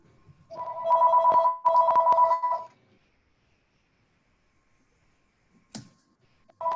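Two clear telephone rings, each a buzzing electronic trill, sound close together, then silence, a soft clunk and the start of another ring as a caller dials into a meeting.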